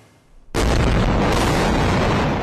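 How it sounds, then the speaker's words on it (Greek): A loud explosion at night in the Gaza Strip erupts suddenly after a moment of quiet, then rolls on as a sustained, heavy roar that barely fades. "Άλλη μία έκρηξη συγκλονίζει μέσα στη νύχτα τους κατοίκους της λωρίδας της Γάζας."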